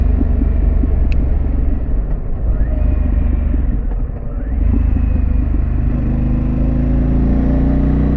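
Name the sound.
Harley-Davidson Pan America motorcycle exhaust with Vance exhaust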